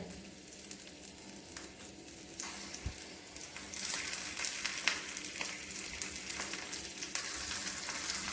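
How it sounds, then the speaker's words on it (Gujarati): Stuffed green chillies fry in a pan over a low flame, giving a steady crackling sizzle with small pops and stirring scrapes that grow a little louder midway, with no voices. "અને ગેસની ફ્લેમ છે એકદમ ધીમી રાખવાની છે, જેથી મરચાં બળી ના જાય અને સારી રીતે શેકાય."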